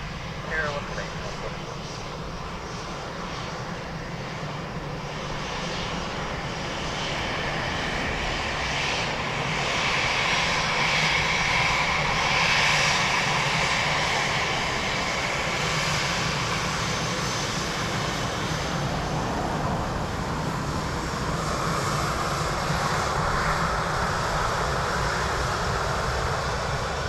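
A Ryanair airliner at Dublin Airport on runway 28 left produces a loud, sustained jet engine roar that swells and holds for nearly half a minute, with faint radio chatter in the background.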